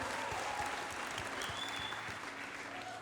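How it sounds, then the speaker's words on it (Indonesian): A church congregation claps in a steady, dense burst of applause, moderately loud and sustained throughout with no talking over it. "tepuk tangan dulu buat Tuhan"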